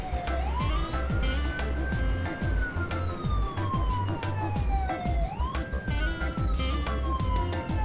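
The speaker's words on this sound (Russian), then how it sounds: "Полицейская машина очень спешит." A cartoon police car siren wailing in long rising and falling sweeps, loud and close over a steady background of music and traffic-like rumble, with no talking.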